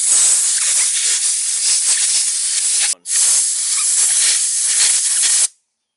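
Compressed air from an air hose blasts grease off car wheel bearings, a loud steady hiss in two long bursts with a brief break between them.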